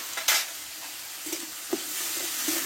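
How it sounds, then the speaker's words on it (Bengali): Spice paste for a Bengali katla fish curry being sautéed in a pan, a soft steady hiss of sizzling with a few short scrapes and taps of the spoon, close and fairly quiet, no voices. "মশলাটা ভালোভাবে একসঙ্গে কষে নেবো"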